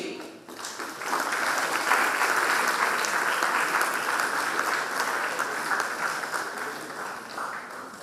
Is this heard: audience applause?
yes